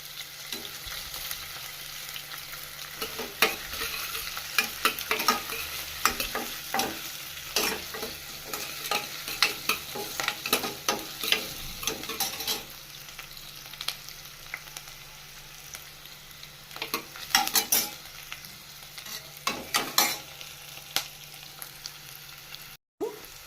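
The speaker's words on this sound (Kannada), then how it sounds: "ಈರುಳ್ಳಿ ಚೆನ್ನಾಗಿ ಫ್ರೈ ಮಾಡ್ಕೋಬೇಕು. ಗೋಲ್ಡನ್ ಕಲರ್ ಬರೋವರೆಗೂ ಫ್ರೈ ಮಾಡ್ಕೋಬೇಕು." Onions frying in oil in a kadai for a mutton chukka, a steady close sizzle broken by frequent scraping strokes of a stirring spoon, with no talking.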